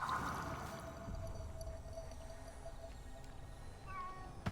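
A cat meows in Ghostwire: Tokyo, a few soft calls over quiet game ambience, with a brief high chirping near the end and no speech.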